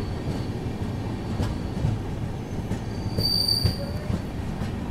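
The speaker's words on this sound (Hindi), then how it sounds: "ट्रेन पहुंच चुकी है मनगांव में" The Mandovi Express rolls into Mangaon station on the Mumbai to Goa Konkan line in monsoon, a steady rumble of rail cars with squealing wheels and a faint high screech midway, close and continuous without talk.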